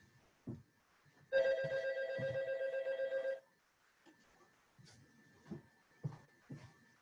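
A telephone bell rings loudly in a steady burst of about two seconds, then stops, leaving scattered soft knocks and faint background noise.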